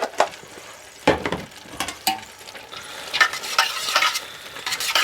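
Cheddar and Monterey Jack cheese being stirred into one-pot taco pasta, close wet scraping and sloshing strokes with clinks of the spoon against the pot, repeated irregularly throughout.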